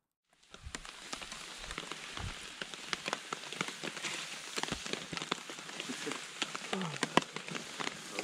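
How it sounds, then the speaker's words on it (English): Steady rain pattering on a tarp over a campsite on a chilly morning, with dense close drops and occasional louder splats, continuous throughout with no voices standing out. "Well, it's a nasty, chilly, rainy morning."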